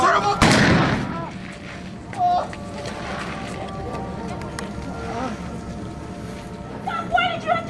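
A single loud, sharp gunshot cracks out near the start of a Wild West gunfighter stage show, echoing briefly before excited voices and shouting from the performers carry on.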